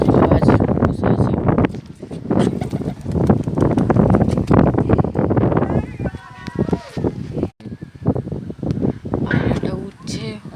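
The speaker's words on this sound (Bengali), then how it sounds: "অনেক হাওয়ার প্রেশার অনেক" Strong, cold wind blows outdoors where pigeons are flying and buffets the microphone with gusty rumble, mixed with a person talking nearby.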